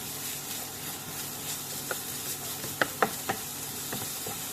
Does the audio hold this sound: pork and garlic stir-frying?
yes